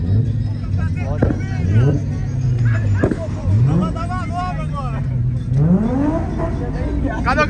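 Cars drifting in Brazil, engines revving in rising and falling sweeps several times over a steady rumble, with a lively crowd talking and shouting throughout.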